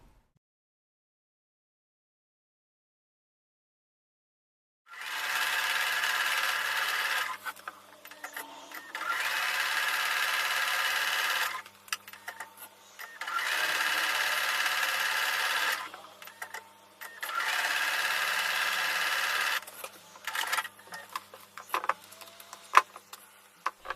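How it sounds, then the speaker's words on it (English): A home sewing machine stitches quilt fabric in four bursts of steady whirring mechanical running, each a few seconds long and separated by short pauses, close and clear with faint handling clicks between runs. "So I'm going to take that over to the sewing machine now."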